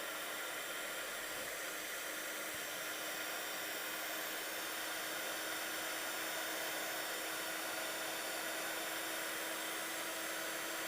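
Embossing heat tool melting powder on a Christmas magnolia greeting card, a constant loud whooshing blower hum that runs unbroken throughout with no talk.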